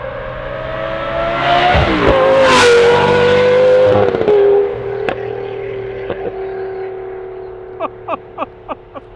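A Lamborghini Gallardo Superleggera exhaust revs loudly nearby, rising and falling through a sustained roar, then settles to idle with a series of sharp, rhythmic blips and pops near the end.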